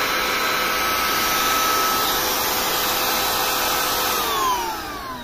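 A cordless hair trimmer runs at its speed 6 setting, giving a loud, steady high-pitched motor whine that holds for several seconds and tapers slightly near the end, with no talking.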